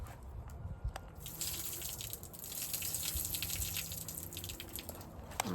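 Water gushes and splashes as an overwatered garden pot is tipped out in an urban vegetable patch, a steady close pour lasting several seconds with a few drips and small knocks.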